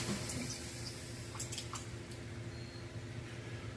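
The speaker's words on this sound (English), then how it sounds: "So now I'm going to clean the brush one more time." A paintbrush loaded with water-based acrylic paint is swished and rinsed in a water container, giving soft, faint splashing and dripping with a few light wet clicks against a low background hum.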